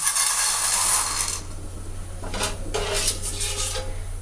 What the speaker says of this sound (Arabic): هننزل بيه طبق المكرونه